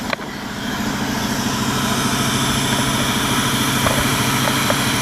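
A CNC router motor cutting 3/4 inch aluminum, with air compressors, air lines and an oil mister running, gives a loud, steady mechanical roar. The low hum runs unbroken for the whole stretch at a close, even level.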